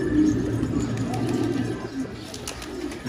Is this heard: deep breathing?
no